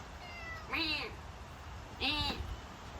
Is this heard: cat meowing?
yes